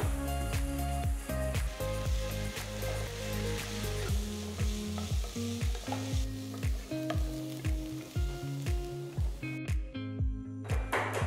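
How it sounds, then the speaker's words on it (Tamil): Sizzling in a hot pan as onions and cashews sauté in ghee and are stirred, with rhythmic scraping strokes over a constant frying crackle; no one speaks. "கொஞ்சம் வதக்குங்க."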